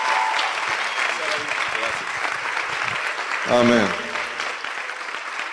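A church congregation applauds warmly and steadily while a voice speaks briefly over the clapping partway through.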